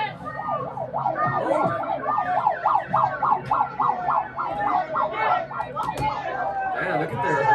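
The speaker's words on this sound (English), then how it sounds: "look at their sirens" Emergency vehicle sirens wail in a rapid, repeating up-and-down pattern from a played recording, loud and continuous, with people chattering and talking over them.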